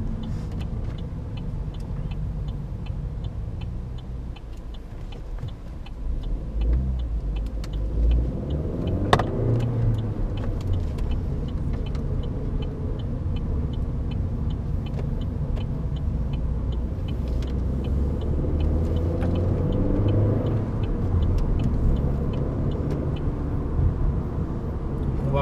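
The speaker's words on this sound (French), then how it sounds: "Et là, quand on roule à 50, un niveau sonore plus que maîtrisé." Steady, muffled engine and road rumble heard from inside a 2013 Opel Astra 1.4 Turbo moving at 50 km/h, fairly quiet and even, with a faint ticking and occasional shifts in engine pitch.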